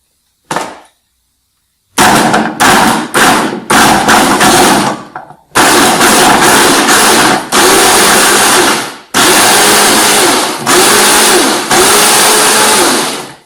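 A Fakir Vienta 1700 W blender runs in loud, close bursts, its motor whirring up and cutting off in a series of short pulses and then longer steady runs, with no speech over it.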